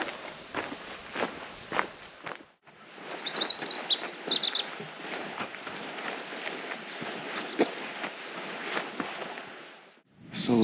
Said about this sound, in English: So lazuli bunting calling from that cottonwood